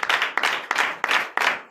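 A church congregation at a night prophetic service in Benin claps in a quick, steady rhythm, with loud, sharp bursts about three times a second and no talk.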